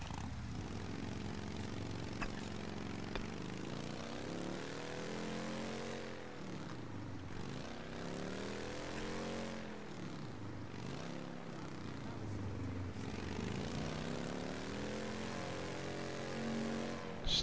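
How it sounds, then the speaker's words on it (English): A motorcycle engine in the video game Mafia: Definitive Edition runs steadily and fairly loud throughout, its pitch rising and falling repeatedly as the bike revs up and eases off. "Nice, it's a motorcycle."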